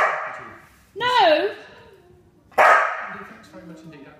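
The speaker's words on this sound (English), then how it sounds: "Stop barking!" A dog barks twice, close and loud, each bark a sharp, whiny yelp with a pause between.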